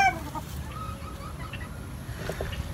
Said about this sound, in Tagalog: Napakabuting manok ito.